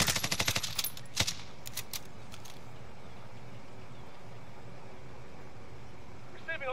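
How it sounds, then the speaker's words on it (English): Rapid bursts of automatic gunfire from Call of Duty Black Ops 4, a loud rattling volley at the start, then a single sharp shot and a few scattered shots before a steady background hum. "Shots are fired."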